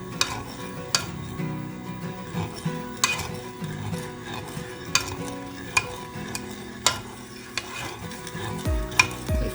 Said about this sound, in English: then you're gonna start to stir it up, and so that it would dissolve